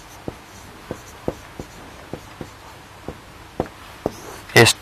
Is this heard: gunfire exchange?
no